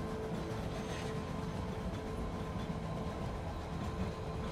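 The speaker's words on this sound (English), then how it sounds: "The wheels squeal a bit on the tracks, but the train keeps on moving." A train rolls steadily along its tracks with a continuous, even rumble of wheels and carriages and a faint thin tone above it, heard alone with no voices.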